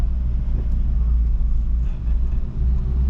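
A car's engine rumbles low and steady from inside the cabin as a beginner driver speeds up, a dense, close drone without pauses.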